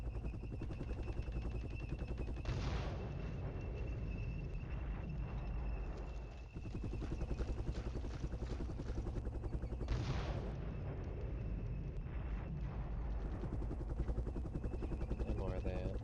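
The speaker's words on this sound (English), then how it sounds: "Soviet artillery is, I think, trying to snipe my fucking helicopters." In the Flashpoint Campaigns war game, Soviet artillery shells US helicopters. Bursts of gunfire and heavy explosions repeat over a constant rotor-like drone. No voices are present.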